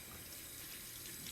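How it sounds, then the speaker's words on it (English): Cold tap water runs steadily into a kitchen sink while raw vegetables are rinsed, a continuous close, even splashing hiss with no voices. "Okay, cold water here for this."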